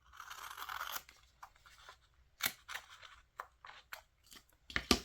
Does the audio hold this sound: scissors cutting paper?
yes